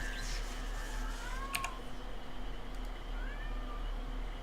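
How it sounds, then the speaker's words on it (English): A pet cat meows twice indoors, two short rising-falling calls fairly faint beside keyboard clicks and a steady low hum. "my cat was getting noisy"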